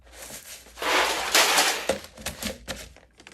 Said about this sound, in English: All right, now we stir. It's resisting.